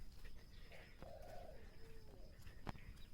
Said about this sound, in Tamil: கோழி கத்துதா? நான் கூட என்னடா ஒரு சவுண்டு கேட்குதுன்னு நினச்சேன்.